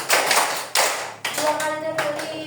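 Students clap together in a classroom clap game, several sharp group claps in a steady rhythm, loud and close, with a spoken voice briefly heard over the end.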